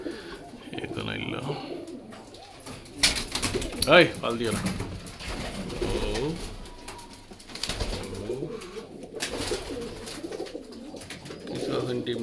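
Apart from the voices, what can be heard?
pigeons cooing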